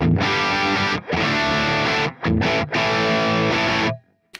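Distorted electric guitar in an 80s rock tone through a Quad Cortex Marshall Plexi 100 amp model with a 4x12 Creamback cab, loud sustained chords broken by two short gaps and a final cutoff.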